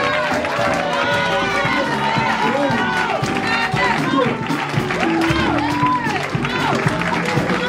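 A church congregation claps and cheers together at a blessing and child dedication service, with steady crowd noise, voices and shouting mixed throughout.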